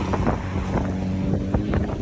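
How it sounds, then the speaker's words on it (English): Strong wind in Boquete, Panama buffets and roars across the microphone in a steady, loud rush with gusty thumps throughout. "Oh, it's very windy."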